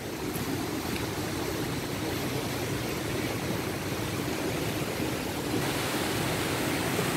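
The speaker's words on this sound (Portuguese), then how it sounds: "olha lá o famoso rio Uberabinha" The Uberabinha river flows with a steady, loud rush of water, a constant broadband roar that stays even throughout with no voices.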